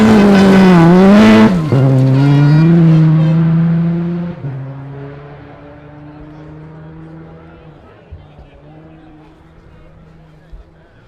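Rally car passing on a forest stage at the 2012 100 Acre Wood Rally, its loud engine howling close by then shifting down and fading into the distance, with a person talking over it.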